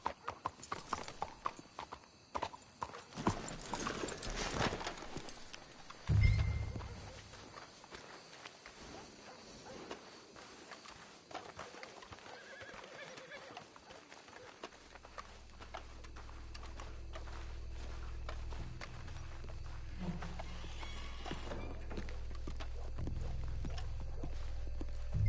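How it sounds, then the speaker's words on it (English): Horses in the video game Red Dead Redemption 2 clip-clopping along at a steady walk, hooves close and clear, with a low rumbling ambience building later and little talk. "Let's hitch the horses up ahead."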